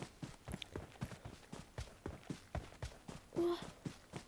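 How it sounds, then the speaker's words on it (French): Footsteps of another player in a video game, a steady run of evenly spaced soft thuds at moderate distance that continues for several seconds. "il y a des bruits de pas. Il y a quelqu'un."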